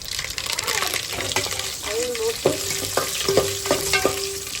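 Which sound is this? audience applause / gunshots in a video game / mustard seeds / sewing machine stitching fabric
mustard seeds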